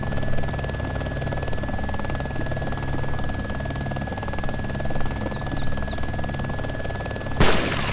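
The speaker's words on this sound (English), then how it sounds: "Is that you shooting?" Gunfire in the DayZ mod Overpoch during a castle assault, a steady loud barrage of shots with a sharp louder crack near the end, with no talk.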